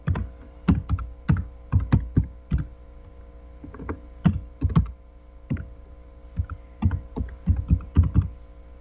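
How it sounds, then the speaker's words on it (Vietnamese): A computer keyboard tapped at a steady, unhurried pace while a login verification code is entered on a customs online service site, with clear individual key clicks and brief pauses, close and fairly quiet, no voices. "rồi sau đó gõ cái mã xác thực FNR"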